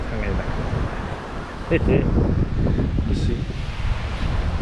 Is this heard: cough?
no